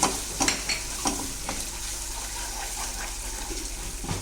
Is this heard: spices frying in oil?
yes